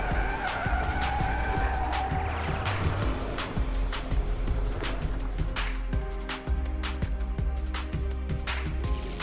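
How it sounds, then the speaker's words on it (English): A car skids after an abrupt swerve in a stability-control simulation, its tires squealing and scrubbing loudly over continuous engine and road noise, with no talking. "due to this abrupt steering maneuver, the vehicle starts to skid"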